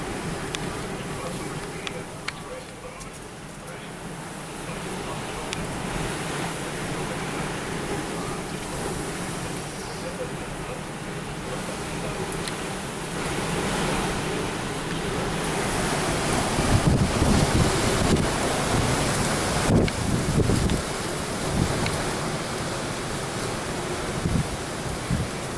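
A November wind storm in Cal-Nev-Ari, Nevada roars across the microphone in heavy, continuous buffeting gusts that swell louder toward the end, with a rushing, surf-like wash and no voices.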